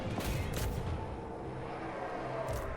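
Gunfire rattles in a Total War: Warhammer 3 battle, a few sharp distant shots and booms early on, then a rumbling, muffled wash of combat noise.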